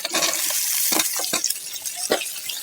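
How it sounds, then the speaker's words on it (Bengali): Washed beans tipped into a pan of frying onion and garlic, giving a wet splashing rush followed by several short sizzling bursts and clatters as they settle. "এখন আমি এতে সবজিগুলো ঢেলে দিচ্ছি।"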